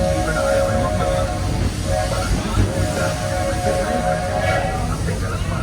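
The Walt Disney World Railroad steam train on a ride from Frontierland Station, rumbling and hissing steadily at close range with wheel noise throughout, while voices speak over it.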